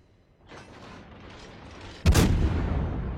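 Warship guns fire in a naval video game, a deep, loud boom bursting after a low rumbling lead-in, then a lingering heavy roar.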